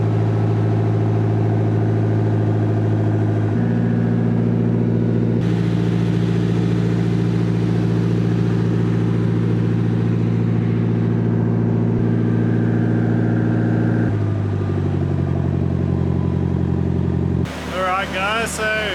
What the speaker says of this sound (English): Car's running. Exhaust is just purring along really nicely.